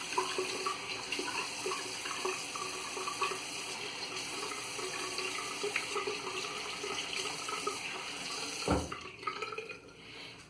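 Tap water runs steadily into a sink for several seconds while shaving soap is lathered, a continuous close splashing hiss that cuts off near the end.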